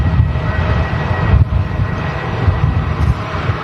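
An easyJet airliner at Manchester Airport roars as a loud, steady broadband engine rumble with wind buffeting on the microphone.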